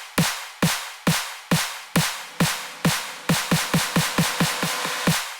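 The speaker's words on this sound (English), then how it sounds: "next is a snare build-up," A snare build-up from a melodic bass remix cracks loudly and alone, its evenly spaced hits gradually speeding into a rapid roll before a final accented strike.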